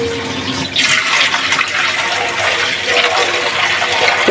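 Broth pours into a pot of magur catfish curry with taro, a steady loud rush of liquid splashing and gurgling for several seconds without pause.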